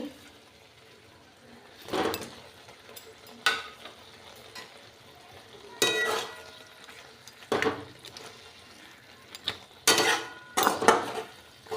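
Fish slid into a hot pan of oil with tomatoes and green chillies, frying in a home kitchen, with repeated bursts of sizzling and utensil clatter against the pan between quiet gaps.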